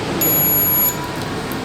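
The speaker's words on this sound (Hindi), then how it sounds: "जब हम इसको मिलाते हैं तो ये बीप आती है" A multimeter set to continuity mode gives a single short, shrill electronic beep while its probes are joined during a mobile phone repair check, followed by quiet background hiss.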